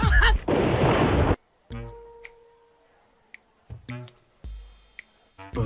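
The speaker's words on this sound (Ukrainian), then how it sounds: "Це вибухнув святковий фейерверк." Several sharp bursts and bangs of celebratory fireworks in an anime, with gaps of near silence between them, some loud and close, others brief pops.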